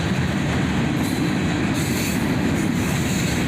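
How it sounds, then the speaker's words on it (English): Norfolk Southern freight J783 rolls steadily past heading south toward Cincinnati, a loud continuous rumble of wheels on rail with faint squeals and clatter, close by and without voices. "This train was J783, heading south to Cincinnati,"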